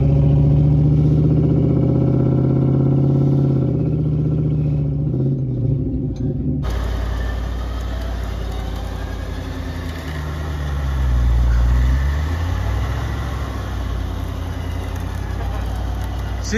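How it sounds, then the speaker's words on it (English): A truck stuck in deep snow on a mountain trail runs with a steady low engine rumble that swells once as it revs, heard continuously with no talking. "So I think I can hear their truck. It kind of sounds like they're stuck."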